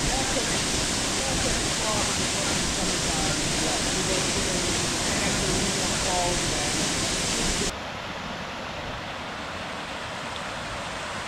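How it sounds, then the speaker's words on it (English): Steady roar of a waterfall in a mountain grove of trees, loud and continuous, with faint talking underneath; the sound drops abruptly to a quieter rush near the end. "Incredible breeze coming off of this waterfall here."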